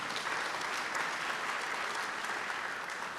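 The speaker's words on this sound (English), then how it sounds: "Another round of applause for the panel," An audience applauds a panel at a dialogue event, the clapping dense, even and sustained from a large crowd that sounds slightly distant, with no voices over it.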